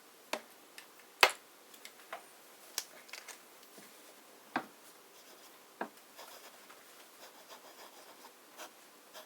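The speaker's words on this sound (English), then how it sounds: "Okay, then I should do a little bit of writing." Pen nib scratching and tapping across paper while writing with Sailor Jentle Blue fountain pen ink, quiet scattered strokes with a few sharper ticks, close and alone.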